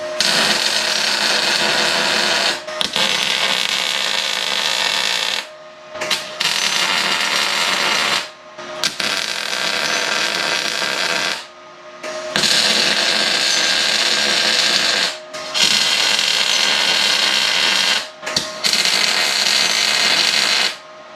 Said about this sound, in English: we're going to grab the welder and we're just going to go ahead and tack this thing up